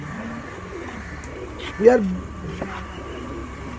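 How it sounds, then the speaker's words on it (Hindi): A high-flying pigeon gives one soft, rolling coo close by, rising out of a quiet outdoor background while someone speaks briefly before it. "बड़ा ही मज़ेदार कबूतर है, बहुत ही ज़बरदस्त"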